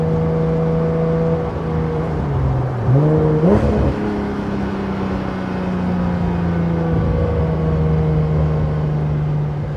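Porsche 992 GT3 Touring with a full Dundon titanium exhaust cruises at low revs, its steady engine drone and exhaust flutter continuous, with a brief rising-and-falling swell of revs midway.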